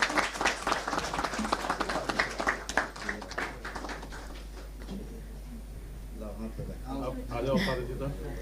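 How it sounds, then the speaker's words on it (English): Audience applause at the Millennial Change Makers Conference and Awards 2023 ceremony, dense clapping for several seconds that thins out, with voices and crowd noise rising near the end. "Please give Udayan a big round of applause."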